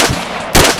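A single loud video game gunshot cracks out suddenly over a dense, noisy game background.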